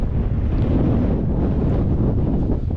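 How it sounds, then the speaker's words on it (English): Steady outdoor breeze at a reservoir, rushing and buffeting the microphone continuously without a break, loud and close, with no voices. "I'm just getting that nice breeze which is waking us up"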